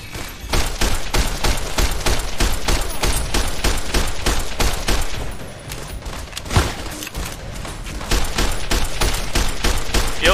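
Rapid automatic gunfire in the game Fallout: New Vegas on hardcore mode, loud dense bursts of shots rattling almost continuously with a brief lull and a single heavier boom midway.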